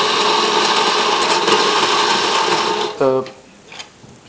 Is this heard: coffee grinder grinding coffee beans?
yes